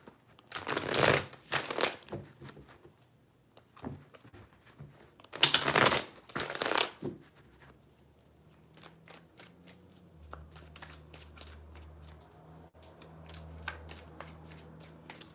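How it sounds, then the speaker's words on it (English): A tarot deck is shuffled in two loud, close bursts of rapid riffling, each lasting about two seconds and separated by a short pause, followed by quieter handling and faint background hum. "Three shuffles."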